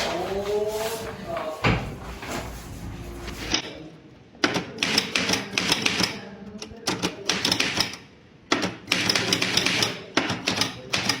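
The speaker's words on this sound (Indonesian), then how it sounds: "Tolong ketik teks proklamasi ini" A mechanical typewriter types out the Indonesian proclamation text in a school history reenactment. Rapid, uneven bursts of clacking keystrokes run close and loud through the second half, after a voice speaks at the start.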